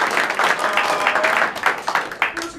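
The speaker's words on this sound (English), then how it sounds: "Let's give a big applause to the Lafayette Hotel and the San Diego Improv Festival." Improv festival audience in a hotel venue breaking into applause: a burst of many hands clapping close by, fairly loud and uneven, thinning and tapering off toward the end.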